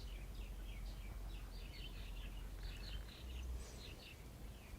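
Birds chirping and trilling in repeated bursts outside a villa in Hawaii, fairly faint against a steady low background hum, with no talk.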